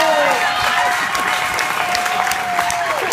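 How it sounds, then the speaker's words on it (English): Wedding guests give the happy couple a loud, sustained round of applause at the reception, dense clapping filling the room while a voice carries on over it and a sustained tone runs beneath. "How about a big round of applause for the happy couple, Joe Shaw?"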